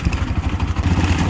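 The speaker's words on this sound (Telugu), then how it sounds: "ఇలాంటి దారి నుంచి మేమైతే బైక్ పట్టుకుని వెళ్ళడం జరుగుతుంది" A motorcycle rides along a rough, rutted forest road, its engine a steady, rumbling mid-range drone with bumpy clatter, close and continuous.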